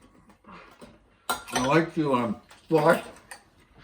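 A spoon clinks and scrapes against a bowl of Honey Nut Cheerios, with bright metallic taps throughout and a loud humming or vocal sound in the middle.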